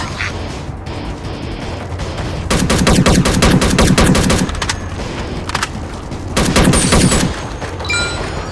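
Rapid automatic gunfire in the Unkilled zombie shooter game rattles out in two loud sustained bursts, with shorter single shots between them over a steady background drone.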